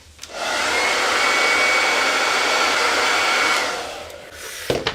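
A hair dryer blows steadily and close by, drying a layer of paint on Halloween decor. It runs for about three seconds, then trails off into quiet with a few small clicks.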